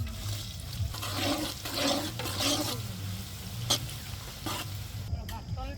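Onion and green chili hit oil in a pan on a stove at an outdoor family picnic by an old pond, giving a soft, uneven sizzle with a few sharp clinks and splashy bursts.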